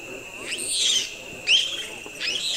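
Monkeys calling at night in a forest by a river in Senegal, three sweeping hoot-like cries spaced about a second apart, mid-distance, over a steady background of insect buzz.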